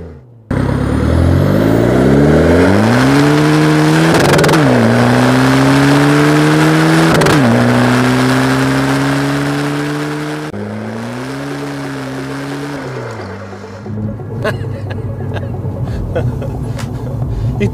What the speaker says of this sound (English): for a diesel, you know, with the exhaust and the induction and the popcorn limiter, actually sounds really cool